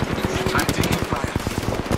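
Rapid automatic gunfire in the battle royale shooter Apex Legends, a dense run of sharp repeated shots over two seconds mixed with game voice lines and other combat noise.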